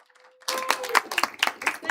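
A small meetup audience breaks into a short burst of clapping after a moment of quiet, uneven hand claps with a faint tone beneath at first.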